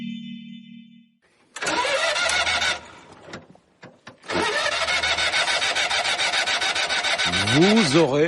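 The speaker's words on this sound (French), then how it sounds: "Vous aurez peut-être reconnu le bruit de cette voiture mythique et cette année c'est son 60e anniversaire, la 2 chevaux de Citroën" A Citroën 2CV cranks and starts, then its small engine runs loud and close in a buzzing, rasping idle, with a brief tone before it and a revving rise at the end.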